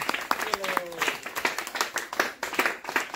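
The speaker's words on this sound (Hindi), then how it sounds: "तालियां तालियां तालियां तालियां" Children and adults clap their hands at an outdoor football challenge, a quick uneven burst of claps mixed with lively talk and cheering voices.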